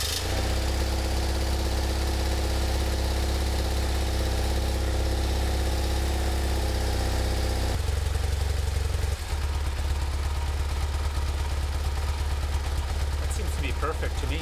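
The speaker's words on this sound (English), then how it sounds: "let me start the bike and see if it starts and if it runs fine" A BMW R1100 motorcycle engine with a freshly rebuilt throttle body runs at a steady idle. It has a constant low rumble that stays loud and close for the whole stretch, with a brief shift partway through.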